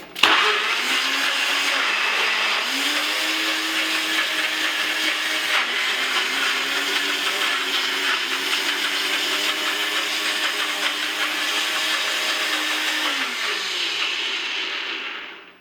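An electric blender whirring through a protein smoothie, a loud continuous motor roar that starts abruptly, shifts pitch slightly as the contents churn, and winds down at the end, with no talking.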